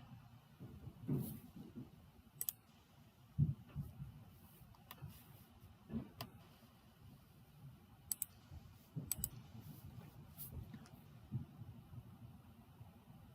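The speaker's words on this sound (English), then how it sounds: "So I'm going to click right there. Just type in 3." Scattered computer mouse clicks and a few keyboard taps sound close and faint over a low background hum, coming irregularly, with no talk.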